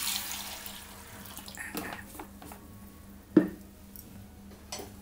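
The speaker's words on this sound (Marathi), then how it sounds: "आणि ह्यात आपण पाणी टाकणार आहोत." Water poured into a bowl of roasted sabudana (tapioca pearls) in a home kitchen, a soft trickling with a brief splash partway through, quiet and close.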